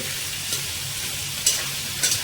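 Mutton masala curry sizzles steadily in a pan, with a few brief scraping stirs of the spoon rising above the constant frying hiss.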